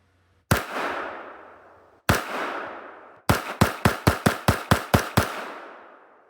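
Shots from a Walther WMP .22 WMR pistol ring out outdoors: two single loud reports with long echoing tails, then a rapid string of about nine shots in quick, even succession.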